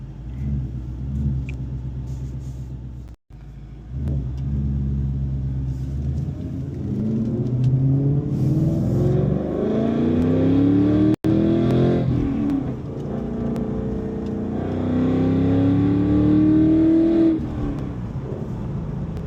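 A supercharged 2024 Ford Mustang GT engine, a deep rumble rising and falling through several strong revs with a whining climb in pitch, loud and close, no talking.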